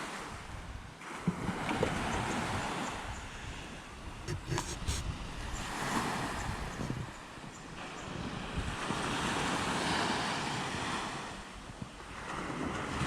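Surf rolling onto a public beach in Mauritius, a steady loud wash of breaking waves with wind buffeting the microphone throughout, no talking.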